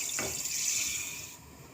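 Water pours into a pan to make the sugar syrup for halwa, a steady splashing, hissing stream up close that stops cleanly near the end, with no talking.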